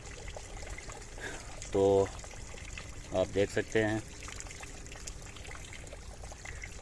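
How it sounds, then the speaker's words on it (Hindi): Household waste water running out of a house into an open drain outside, a steady outdoor trickle and gush heard under a voice speaking in short bursts. "ये जी घर का जो वाटर है उसका पानी बाहर आ रहा है खाले में"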